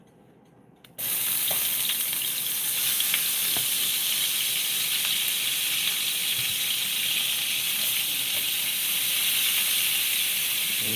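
Butter hits a hot pot used for cooking steak and bursts into a loud, continuous sizzle. The frying hiss holds steady and close for about ten seconds after a brief quiet start, with no talking.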